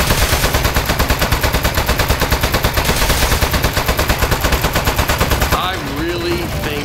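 Rapid, continuous automatic gunfire from turrets in the video game Aperture Desk Job, a dense, loud, evenly pulsing rattle that runs for several seconds before cutting out into quieter game sounds.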